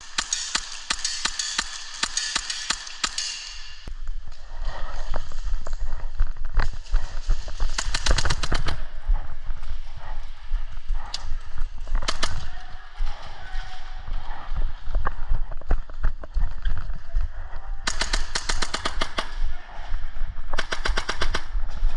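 AAP01 and Tokyo Marui Hi-Capa airsoft pistols firing during gameplay, with bursts of rapid sharp clacking shots and single pops, some loud and close and others farther off, separated by brief quieter gaps.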